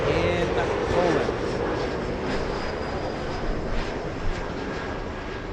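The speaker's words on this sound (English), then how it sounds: "That plane right there, the one you see taxiing to the north, that's Lot 22 flying to Warsaw" A LOT Polish Airlines airliner bound for Warsaw taxis at Los Angeles International Airport, its engines giving a steady, moderately distant whine and roar, with faint voices in the background.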